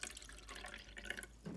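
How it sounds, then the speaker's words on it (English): Water poured into a small container for washing a mini beauty blender, a soft, close, continuous splashing trickle with no speech. "So we're gonna pour in our water."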